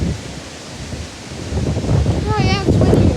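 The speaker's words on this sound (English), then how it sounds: "Oh yeah, it's windy." Strong gusting wind buffets the microphone outdoors by a house during 65 mph gusts, a broad roar that swells louder toward the end, with a brief whistling tone and a person speaking faintly beneath it.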